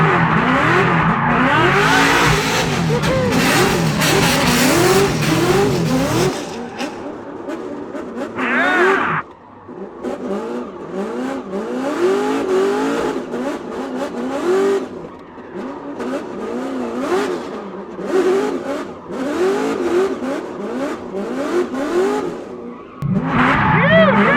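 A car drifts at close range with loud revving engine surges and long screeching tire squeals in repeated waves, a brief quieter gap midway, and people talking at times.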